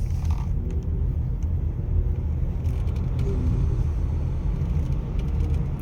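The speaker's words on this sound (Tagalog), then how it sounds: "Napaka heavy traffic." Heavy road traffic on C5 in Pasig: a steady, dense low rumble of car and bus engines idling and creeping along, continuous and fairly close, with no talk.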